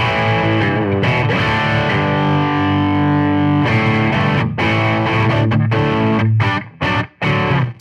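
An electric guitar rig plays sustained chords through effects and heavy distortion, loud and continuous before breaking into a few short choppy stabs at the end.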